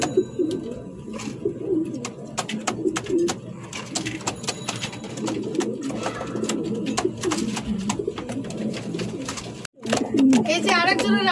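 A red Danish female pigeon coos in a low, throaty burble, with other pigeons, flapping and clicking cage noises around it and people talking nearby.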